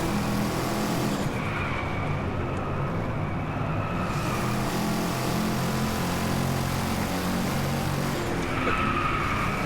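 A Koenigsegg Regera in Driveclub screeches its tyres in a long continuous skid over a steady engine drone, with the squeal swelling at the start and again near the end.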